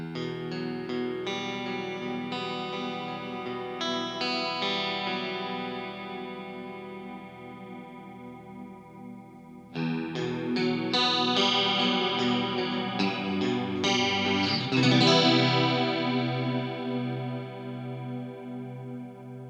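Sustained chords run through a Digitech Whammy V in its subtle detune setting, giving a shimmering chorus-like texture; the chords change in stepped strums and swell louder partway through, with nothing else heard.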